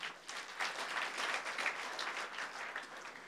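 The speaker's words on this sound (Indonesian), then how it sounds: "Beri tepuk tangan." Church congregation applauding steadily for about three seconds, a dense, continuous wash of clapping with no talk over it.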